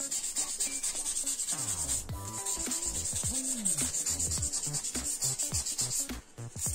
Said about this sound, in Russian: Вот это тысячная наждачка.